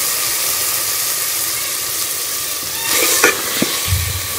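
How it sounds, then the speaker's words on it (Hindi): Chong vegetable frying and being stirred in spices for a Pakistani chong gosht salan, a steady bright sizzle with a few scraping stirs and clinks of the spoon near the end. "मैं मसाले में अच्छी तरह से भून लूंगी।"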